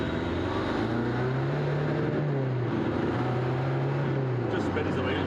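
A diesel rear-wheel-drive Ford Capri with a PD130 engine drones steadily as its wheels spin with the clutch out in second gear, the engine note rising and falling in pitch under constant loud noise.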